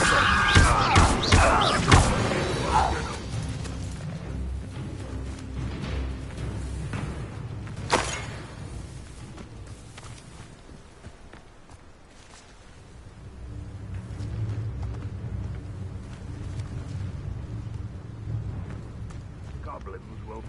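Spell-casting effects from a Harry Potter video game fire as loud thuds, bursts and whooshes, heaviest at the start, then settle into rumbling game sounds under spoken voices.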